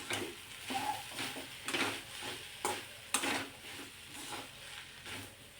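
Matar kachori pea filling stir-fried over medium heat in a heavy-bottomed kadhai, a soft steady sizzle broken by repeated scraping strokes of a spatula, no voices.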